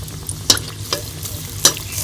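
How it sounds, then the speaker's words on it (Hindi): Mughlai egg paratha frying in a pan over a medium flame, a soft steady sizzle broken by three sharp scraping clinks of a utensil against the pan, with no talking. "आपने इसको मीडियम फ्लेम पे जो है आपने इसको पराठे को फ्राई करना है।"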